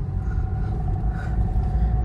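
Steady low road-traffic rumble of passing cars and heavier vehicles on a busy stretch leading up to a city junction, continuous and moderately loud with no voices.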